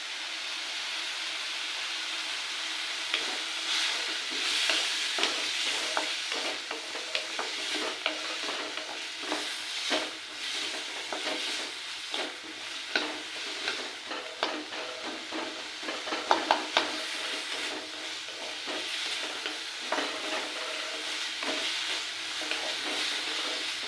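Village-style tomato chutney fries with a continuous close sizzle while a spoon scrapes and stirs the pan in irregular strokes throughout.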